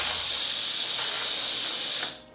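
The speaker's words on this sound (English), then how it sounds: "you can see how there's a lot of steam that comes out." Steam rushes in a loud, steady hiss from the opened pressure release vent of an Instant Pot Duo, close up, then cuts off abruptly near the end.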